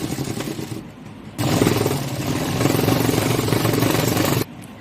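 A sewing machine stitches a straight lehenga seam in a steady rapid clatter, running in two bursts with a short pause between, close and fairly loud.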